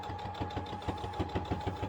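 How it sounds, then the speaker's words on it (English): A temperamental sewing machine runs steadily with a rapid, even mechanical rattle and faint rhythmic knocks, fairly quiet and without talking. "My sewing machine is being temperamental today."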